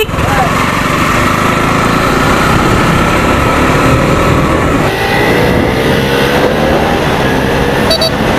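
A Bajaj motorcycle engine drones steadily while riding, loud and continuous with wind and road noise throughout, and a brief horn toot near the end.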